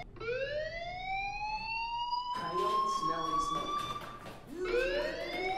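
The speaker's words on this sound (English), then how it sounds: "do you hear that fire alarm?" A fire alarm in the video game Life is Strange wails repeatedly, each rising, siren-like tone sweeping upward and then sustaining, with a brief broken stretch of tones in between.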